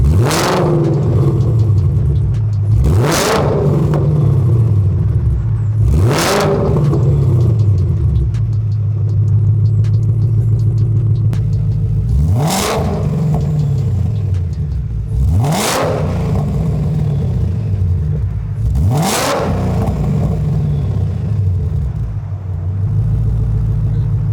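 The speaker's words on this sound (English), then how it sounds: "Now we'll switch between the active exhaust modes." A Ford Mustang Dark Horse with an AWE SwitchPath active exhaust idles with a deep rumble while the engine is revved sharply six times, each quick roar falling back to idle, the exhaust note shifting between modes.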